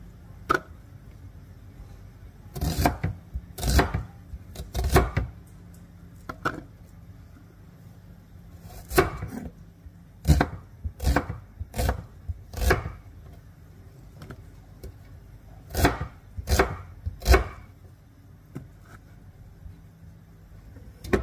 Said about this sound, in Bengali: তো আমি পেঁয়াজগুলো দেখো কিভাবে কাটতেছি, এইভাবে 2 পিস করে, তারপরে একটু বড় বড় করে।